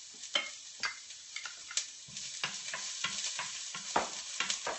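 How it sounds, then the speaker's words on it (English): Shallots sizzling in a hot pan, a quiet steady frying crackle broken by repeated sharp stirring scrapes and clicks from a utensil at close range, with no talking. "We're going to get a nice sizzle."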